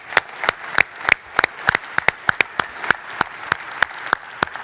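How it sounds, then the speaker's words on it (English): Sparse applause at a PCI security community event: a small number of people clap in a loose, uneven rhythm, individual claps distinct and fairly close. "So give them a round of applause, because we really had some great folks."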